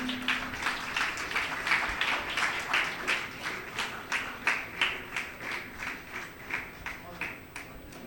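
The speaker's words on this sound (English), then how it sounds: "Please keep the claps going." Continuous applause from a crowd at a college of architecture convocation, steady overlapping hand claps with a regular pulsing rhythm, moderately loud and close.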